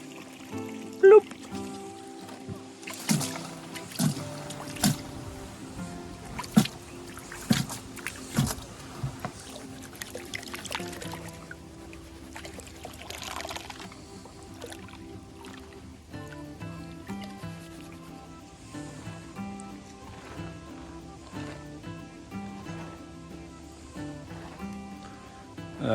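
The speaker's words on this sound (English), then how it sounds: "I've just got the little dregs in the bucket there, which I will pan out like I normally do." Gold panning of bucket dregs in water at a Bendigo diggings, with sloshing, trickling and gritty swirling, sharp knocks early on and a steadier wash later, close up.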